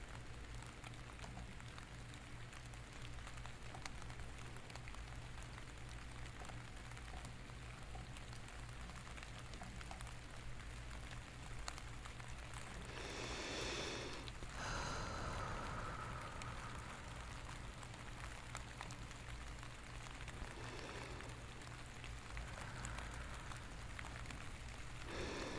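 Steady rain falls outside in a soft, continuous patter, with a brief louder burst of crunchy noise midway, close and fairly quiet, and no talking.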